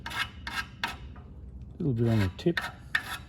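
A sharpening stone chases burrs off the steel gaffs of tree climbing spurs in short, scraping strokes, a few separate rubs close by, with someone speaking briefly between them.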